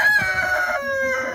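In a snowed-in chicken coop, a bird lets out a drawn-out, crow-like call, with a few clucks close by and no speech.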